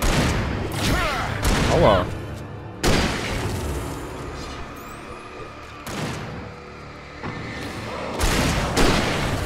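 Sharp gunshots and booming bursts from the video game Alan Wake fire at irregular intervals, loud and punchy, with a voice briefly crying out among them.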